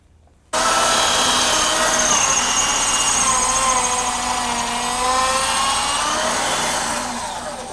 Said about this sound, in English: Let's try drilling it once. You got the drill ready?